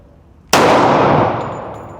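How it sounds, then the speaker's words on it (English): A single loud pistol shot at a target, from a Glock 40 Gen4 or a TX22 fitted with a Freedom Finger FRT, cracks sharply and close, then leaves a long ringing decay. "I'm gonna be shooting at the number 7"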